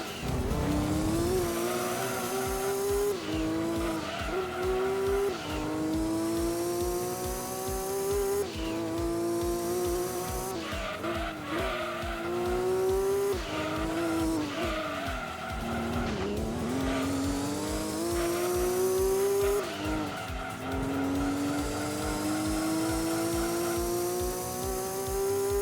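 Race car engine from Gran Turismo 2 screams continuously at high revs, pitch climbing through gears with sharp drops at shifts, tires squealing in corners; loud and sustained throughout with no talking.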